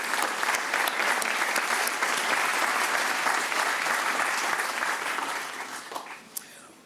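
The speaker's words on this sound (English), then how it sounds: "One more round of applause for our sponsors, please." A large conference audience gives sustained, even applause for the event sponsors. The clapping holds steady for several seconds, then fades out, ending with a few scattered claps.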